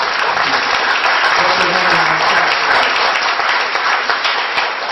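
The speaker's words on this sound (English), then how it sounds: "How about a nice round of applause for Grace?" Audience at a school board meeting applauds a student named Grace, steady loud clapping from many hands filling the room for the full length with a faint murmur of voices beneath.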